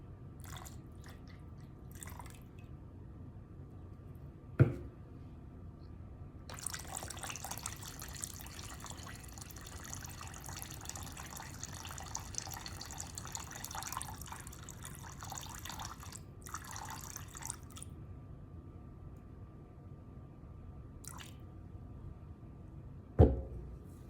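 Alcohol pours into a container set on a scale while making a room spray, a thin, steady trickling stream that runs for several seconds, framed by quiet stretches and a couple of sharp knocks.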